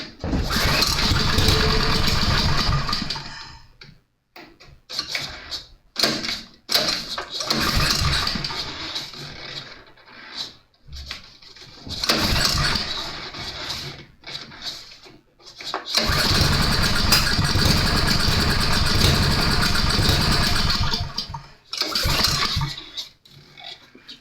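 A Cub Cadet tiller engine sputters into life, runs loudly in bursts, cuts out and restarts several times, then settles into a sustained close roar.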